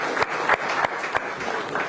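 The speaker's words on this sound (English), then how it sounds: "Round of applause for them." An audience at a climate diplomacy event gives a short round of applause for two co-authors of a book. The clapping is steady and moderately loud, with a few sharper claps standing out.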